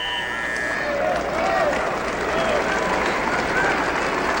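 Crowd noise fills the arena at a 1981 New York state high school intersectional wrestling championship final, a steady roar of applause and cheering, loud and continuous, with faint whistles and squeaks.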